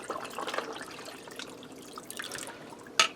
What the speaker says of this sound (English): I'm going to need a little more water in there.